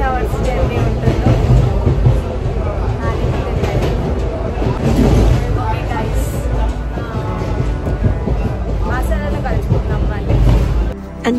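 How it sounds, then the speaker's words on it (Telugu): A passenger train on the trip to Basara rolls along the rails with a loud, continuous rumble and clatter that holds steady from start to finish. "ట్రైన్ అయితే స్టార్ట్ అయిపోయింది."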